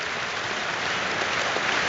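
A stadium crowd at a Liverpool versus Rangers Champions League match applauds Trent Alexander-Arnold, the opening goalscorer, as he walks to the corner; a broad, steady wash of clapping and crowd noise runs throughout without a break.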